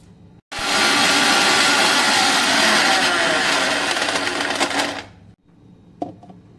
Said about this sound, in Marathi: कैरीची चटणी वाटून झालेली आहे,